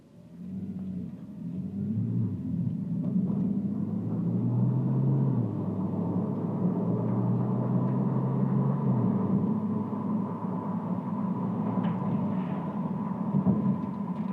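A 2011 Porsche 911 Turbo S pulls away from a standstill in first gear, its engine note swelling into a loud, steady low rumble that holds for several seconds and then settles into continuous road drone.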